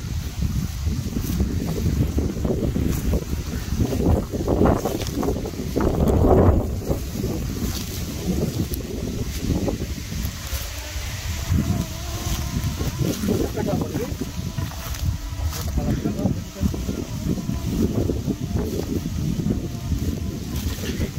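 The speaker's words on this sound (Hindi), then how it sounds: "अब यहाँ पे देखो, इस रोटावेटर के ऊपर देखते हैं इसका परफॉर्मेंस कैसा मिलता है" A tractor drives a rotavator through a field with a steady, heavy low rumble of engine and churning soil, buffeted by wind noise on the microphone, while people talk over it throughout.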